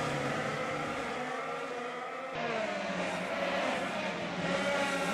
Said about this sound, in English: That's quite a pack of cars there.